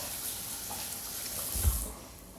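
Tap water runs into a kitchen sink as hands are rinsed after handling raw chicken, a faint steady stream that ends with a brief soft thump and splash.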